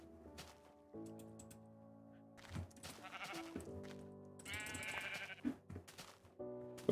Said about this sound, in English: Hey, look, a sheep.